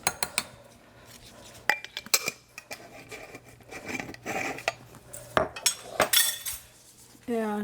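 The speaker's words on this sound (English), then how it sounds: "I'm going to add a couple tablespoons of Italian dressing to the mayonnaise." A spoon clinks and scrapes against a bowl as Italian dressing is mixed into mayonnaise, giving irregular tapping and rattling strokes with a few louder clanks, close up in a quiet kitchen.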